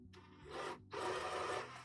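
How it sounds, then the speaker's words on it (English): A drill bit countersinks a screw hole in wood in a workshop, giving two close, loud grinding bursts separated by a short pause. "And then I'm just countersinking a little bit before I drive in another screw."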